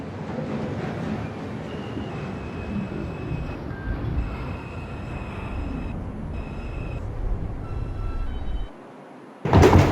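A New York City subway 4 train running Bronx-bound, a steady loud rumble of wheels and car noise with faint metallic squeals, then a brief quiet pause before a burst of noise at the end.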